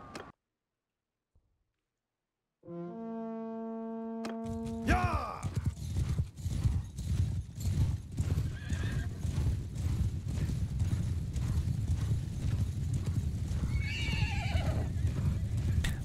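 Horse neighing and galloping hooves in the medieval combat video game Mount and Blade 2: Bannerlord: a clear whinny, then rapid repeated clip-clop with battle clatter, loud and close, plus another neigh near the end.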